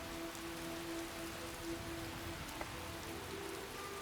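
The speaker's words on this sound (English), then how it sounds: "See if maybe in 3 hours the rain will let up." Steady rain patters down in the video game Skyrim, an even wash of drops at moderate level, with soft tonal background music and no voices.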